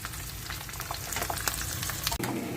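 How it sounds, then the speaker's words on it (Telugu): Potatoes frying in oil in a pan, a dense continuous sizzle close by, with faint stirring scrapes and a brief clatter near the end. "ఎర్రగానే ఎర్రగా వేగిపోవాలండి దుంపలు టైం పడుతుంది కొంచెం"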